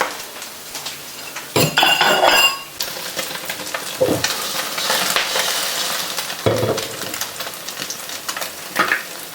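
Basil omelette frying in hot oil in a pan, a steady sizzle with a few loud metallic clanks and scrapes of a utensil against the pan; no talking.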